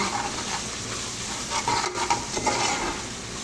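A pan of vegetable spice mix with chili, turmeric and cumin powder sizzles steadily while a spoon scrapes and stirs through it, close and continuous, with no voices.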